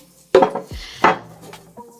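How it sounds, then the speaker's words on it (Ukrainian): A ceramic plate set upside down on a table with a couple of clattering knocks, followed by a light scrape. "Тарілку кладемо догори дном"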